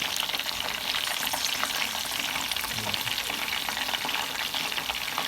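Chicken fries in a pan with oil, a steady, dense sizzle and crackle that stays loud and constant throughout, close by with no voices.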